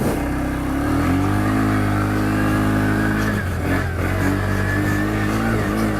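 A Textron Offroad Alterra 500 side-by-side accelerates nearby, its engine droning in rising harmonics, briefly dipping around the middle before pulling strongly again, with no talk.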